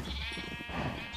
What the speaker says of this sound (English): we're gonna find the sheep that can be harvested